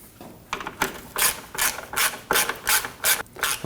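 Screws being snugged down on the engine splash shield of a 2003-2006 Subaru Baja, a ratchet clicking in quick repeated bursts with short pauses between strokes, close and clear, with no talk.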